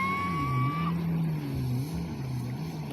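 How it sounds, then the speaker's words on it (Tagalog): A motorboat engine pulling a banana boat ride drones steadily with a wavering low pitch, loud and close over wind and water noise. "Lakas ng makina"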